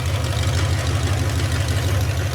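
A rebuilt 360 Magnum V8 with open headers and timing set to 13 degrees before top dead center idles steadily, a loud, close, even low rumble with no talk over it.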